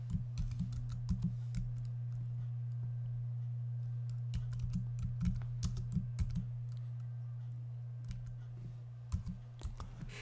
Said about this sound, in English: we are going to type in the title here